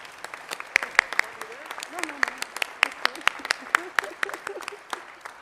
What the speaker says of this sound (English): So please join me in giving Dr. Namuo once again a round of applause